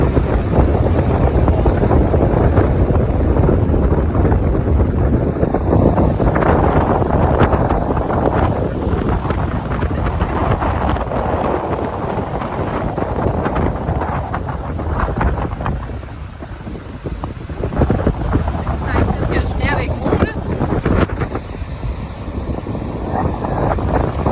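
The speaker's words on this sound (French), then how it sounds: "on va vous faire montrer la mer, elle est rough" Strong wind blowing by a rough sea, heavy gusts buffeting the microphone in a continuous loud rumble, with surf noise underneath that eases briefly and then surges again.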